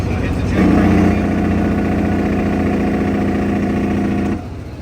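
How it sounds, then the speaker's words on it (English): A truck's jake brake engine braking at around 1,700–1,800 RPM: a loud, steady, buzzing engine drone kicks in after half a second, holds for nearly four seconds, then drops back to a quieter idle-like rumble. "So hit the jake brake again."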